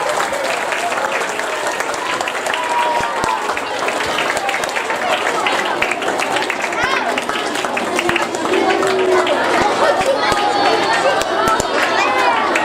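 Sustained applause from a crowd of pupils and guests at a primary school Maulidur Rasul celebration and Hadith 40 programme launch, honouring the morning's religious speaker; dense, steady clapping fills the whole stretch and swells slightly louder near the end.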